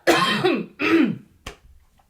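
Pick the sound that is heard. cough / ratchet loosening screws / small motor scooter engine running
cough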